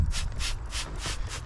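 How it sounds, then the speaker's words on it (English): Short bursts of water are sprayed onto the engine manifold of an MG ZT 190, four hissing spurts in quick succession, close and fairly loud. "I'll give the manifold a quick squirt and we'll just get the bulkhead."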